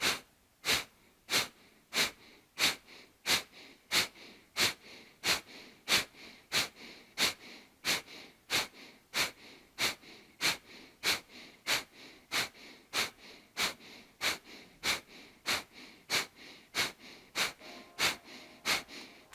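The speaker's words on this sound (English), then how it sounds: "just in and out through the nose" A person breathes in and out through the nose in quick, forceful, evenly spaced sniffs. The sharp bursts repeat steadily, about thirty in a row, close and clear with no talking.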